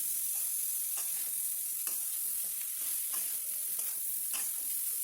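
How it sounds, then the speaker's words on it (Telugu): Beetroot pieces for chutney sizzle in hot oil in a pan while being stirred, a steady soft frying hiss broken by repeated scraping strokes of the spoon at close range. "ఈ ముక్కలు ఒక 5 మినిట్స్ మధ్య మధ్యలో కలుపుకుంటూ వేయించుకోవాలి."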